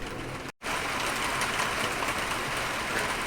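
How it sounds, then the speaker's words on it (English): Heavy rain drums on a roof in a dense, continuous patter after a brief dropout near the start, steady and fairly loud with no speech. "it's raining quite a lot, so it's getting quite noisy under this roof"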